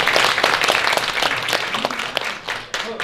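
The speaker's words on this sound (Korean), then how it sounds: "우리 졸업한 교수님께 고맙다는 박수 한번 주세요" Audience applause for a professor who has just stood up at the founding ceremony of a therapeutic agriculture association chapter, a steady wash of many hands clapping that continues throughout with a few scattered voices underneath.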